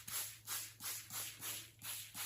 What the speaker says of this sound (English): I'm going to take my spray, which has water in it, and I'm going to soak the whole sheet